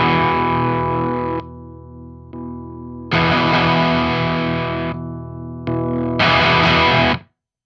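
Electric guitar through a Fortin Fourteen overdrive pedal with a modified circuit, loud distorted chords ringing out in several sustained bursts separated by short gaps, with no talking.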